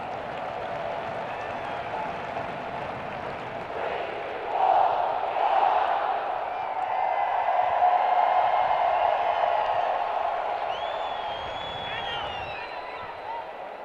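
A stadium crowd of just under 20,000 at Providence Park for Portland Thorns FC's home debut in a women's soccer match: a continuous broad roar of murmur, applause and cheering that swells midway, with a few distant whistles.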